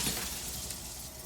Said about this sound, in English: Glass noise is so...